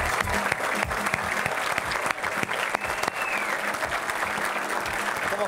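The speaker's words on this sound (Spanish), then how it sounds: "Le damos un fuerte aplauso." An audience at an evening event in the Museo Malvinas applauds a film's writer, a dense, steady round of clapping from a large crowd that fills the whole stretch at an even loudness.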